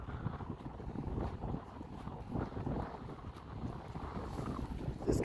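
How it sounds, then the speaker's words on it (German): Gusty wind buffets the microphone with low, rumbling roars that rise and fall, loud and close, with no voices. "weil es ist auch sehr windig"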